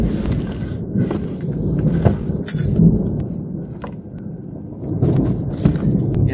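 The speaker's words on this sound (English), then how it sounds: "Ooh, we got thunder." Low rumbling thunder rolls through a steady wash of wind and broadband noise, swelling and fading over several seconds with a few sharper crackles, no voices.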